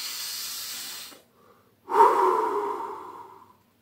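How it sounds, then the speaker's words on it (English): A single deep breath: a soft airy exhale that fades into silence, then after a pause a louder, fuller inhale with breathy hiss, close and alone without talk. "Take a deep breath."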